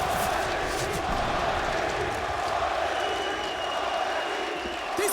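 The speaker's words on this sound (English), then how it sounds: "A rousing chant from the crowd" A large esports arena crowd at an IEM Katowice CS:GO match chants and roars steadily, a dense, sustained wall of massed voices with no clear breaks.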